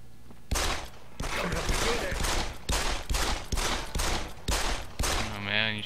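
Rapid bursts of gunfire from the Deus Ex: Human Revolution video game, roughly eight sharp loud shots in an uneven rhythm, each with a short reverberant tail, ending in a brief electronic tone.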